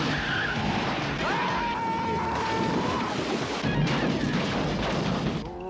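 Car skidding to a stop in a TV episode scene: a long screech of tires with sliding tonal squeals over heavy rumble and noisy background, loud and close, lasting several seconds.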